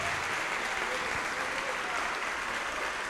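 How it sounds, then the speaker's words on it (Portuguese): A church congregation claps together in sustained, steady applause, dense and fairly loud throughout, with faint voices mixed into the crowd noise. "E vamos aplaudir ao Senhor Jesus por cada vida que está chegando."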